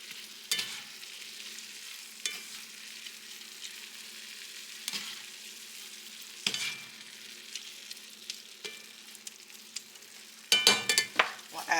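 Seasoned food, including onion, onion powder and a splash of Worcestershire sauce, sizzles steadily in a pan, with several sharp scraping stir strokes and a busier clatter of stirring near the end, and nobody speaking.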